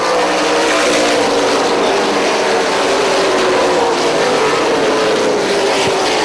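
Late model race cars roar steadily around the track under green-flag racing, a loud continuous engine drone filling the whole stretch with no gaps.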